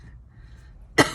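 A single short, sharp cough near the end, close and fairly loud, after a stretch of quiet room tone.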